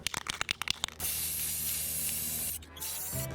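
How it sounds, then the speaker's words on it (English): An aerosol can sprays a clear coat onto horns sculpted from foam clay, one sustained close hiss lasting about a second and a half, a short pause, then a second burst, following a run of sharp rattling knocks from shaking the can. "Now I wasn't planning on a clear coat of spray paint for these"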